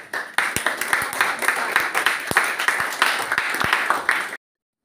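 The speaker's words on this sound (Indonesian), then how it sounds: "Ya, tepuk tangan semuanya." Students applaud after a class group presentation, a modest room of hands clapping with a few sharp individual claps standing out, sustained for about four seconds before cutting off abruptly into silence.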